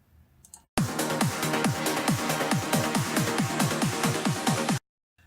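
High-octave acid synth line in an electronic track, a fast run of repeated plucky notes with sliding pitch sweeps, loud and steady for about four seconds before cutting off, with no talk over it.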